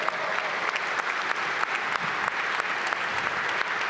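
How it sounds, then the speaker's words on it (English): Steady, dense applause from a large arena audience cheering the Washington Wizards on game day at the Capital One Arena, sustained evenly with sharp individual claps throughout and no speech. "Again, a round of applause for your Washington Wizards on a game day."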